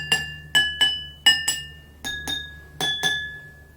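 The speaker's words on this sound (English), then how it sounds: "Look, all glasses are making same sound." Five empty drinking glasses struck one after another, each giving a bright, ringing clink with a sustained glassy tone that decays slowly; about eight evenly spaced strikes, close and clear, with no talking.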